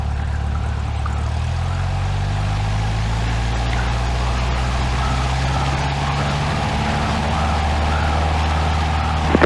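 A small single-engine training airplane runs at full throttle for takeoff, its engine producing a loud, steady droning roar throughout with a slight rise in pitch.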